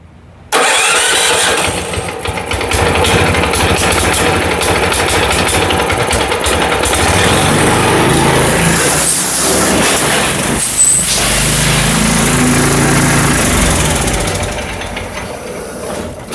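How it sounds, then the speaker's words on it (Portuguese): A homemade tricycle's 212cc small engine runs loud and close, roaring steadily and rising as it revs, with a brief change in pitch midway before settling back, heard alone with no talk. "Aí ele vai ficando mais acelerado o motor."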